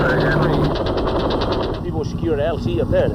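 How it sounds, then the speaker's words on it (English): A helicopter over a Vietnam landing zone, its rotor thumping in a fast steady beat with engine roar, loud and near, while radio voices talk over it. "that chopper's right over his head now"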